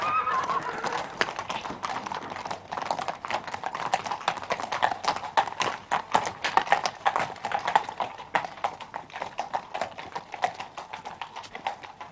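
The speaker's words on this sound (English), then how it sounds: "Horse" Horse hooves clip-clop in a steady rhythm close by, with a whinny rising near the start over a busy background, in a Sherlock Holmes drama.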